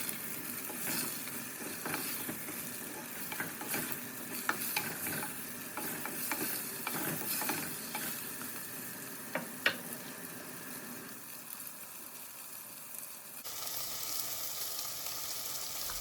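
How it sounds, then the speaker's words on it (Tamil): Drumstick pieces and peeled garlic are stirred and sautéed in oil for a dry fish curry, producing a fairly quiet, steady sizzle with irregular scraping stir strokes that ease off near the end. "போட்டு நல்லா கிண்டி விட்டுடலாம்."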